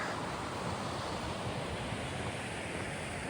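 A river in an Icelandic nature park rushes past as a steady, dense broadband wash, continuous and fairly loud with no breaks and no voices.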